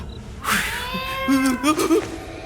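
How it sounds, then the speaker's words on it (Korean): A cat meows several times in quick succession, drawn-out and wailing, fairly close and loud with no talking, in the game Myo-in-gwi. "마침 고양이 소리가 들려옵니다"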